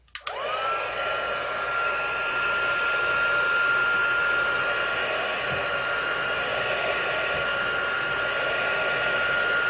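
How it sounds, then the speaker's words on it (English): A heat gun runs steadily and loudly up close, melting embossing powder on a stamped acetate craft piece, with a constant blowing roar and a faint whine starting right after it is switched on, and no one speaking. "I'm going to start our heat gun."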